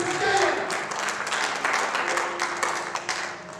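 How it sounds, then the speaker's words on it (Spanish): A church congregation claps and cheers, a burst of applause that is loudest early and then thins, with voices and a sustained musical tone mixed beneath the clapping. "Aleluya, un aplauso."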